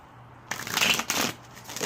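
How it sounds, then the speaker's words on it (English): A deck of tarot cards is shuffled close to the mic, with a quick crisp riffle of fluttering card edges starting after a brief silence and running to the end. "Ooh, the shuffling so nice."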